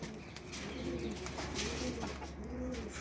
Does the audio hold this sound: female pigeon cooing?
yes